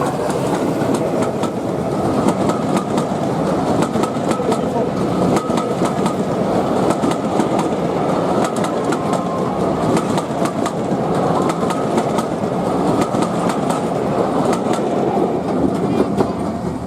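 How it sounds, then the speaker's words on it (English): LNER Gresley-style steam locomotive Tornado hauling a rake of teak coaches up Erdington Bank towards Bridgnorth, a steady loud rumbling train sound with continuous rhythmic clatter throughout, no talk. "Time to hear that Gresley chuff in action as we hear Tornado battling up Erdington Bank towards Bridgnorth."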